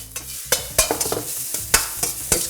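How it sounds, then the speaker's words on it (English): Salmon and onions in XO sauce tossed in a hot wok, with sharp rhythmic scraping clatters of the toss over a continuous sizzle, close and loud. "That wok toss is a long push forward and a quick flick backwards."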